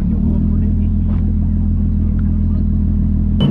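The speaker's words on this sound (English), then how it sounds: "we have the GoPro hooked up in the back for maximum VR6 supercharger sounds" A supercharged VR6 engine in a Volkswagen drones loudly and steadily from inside the vehicle, a deep constant rumble with a faint clatter and no clear rise in revs.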